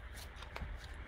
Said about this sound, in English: It is so much fun to shuffle a new deck, right?